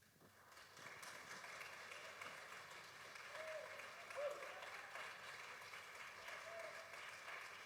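Audience applause for a speaker after a talk, a soft, even patter of clapping from a crowd, fairly faint and steady, with a few brief tones over it.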